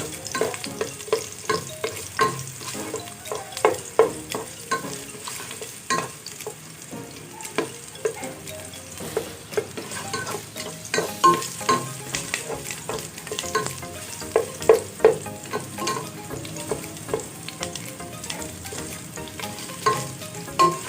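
Onion sautés with ginger in a hot pan for Filipino arroz caldo, giving a steady sizzle and frying crackle broken by repeated scraping and stirring strokes close by.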